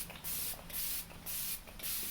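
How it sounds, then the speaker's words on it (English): L'Oreal Infallible Magic setting spray misted over a made-up face in four quick hissing bursts, each about a third of a second long, close to the microphone and with brief pauses in between. "Let's set the face with some setting spray"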